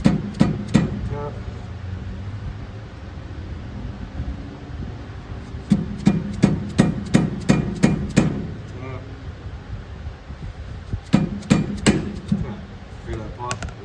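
A flathead screwdriver taps against the front brake rotor of a 1992 Jaguar XJS to knock it loose, giving bursts of sharp metallic knocks in quick clusters, close and loud, with quieter gaps between.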